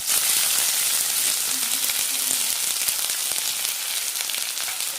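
Onions and mustard seeds frying in hot oil for samosa filling make a steady, loud, hissing sizzle with fine crackling throughout, close up and without any talking.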